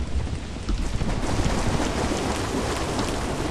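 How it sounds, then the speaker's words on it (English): Heavy rain pours steadily in the video game Lethal Company, with deep rumbling thunder rolling underneath, a dense continuous downpour heard alone without voices. "It's really been raining, isn't it?"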